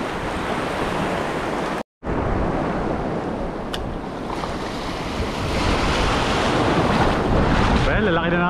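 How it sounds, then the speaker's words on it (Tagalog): Ocean waves surge and break near a fishing boat with steady wind noise buffeting the microphone, a continuous loud rushing roar with a brief dropout, and faint voices underneath. "Well, lalaki na ng alon."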